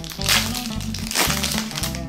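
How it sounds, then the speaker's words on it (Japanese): A foil trading card booster pack for the Duel Masters card game is torn open by hand, a close crinkling rip with steady crumpling over a low background hum. "ハサミいらないわ、手で開けたい。"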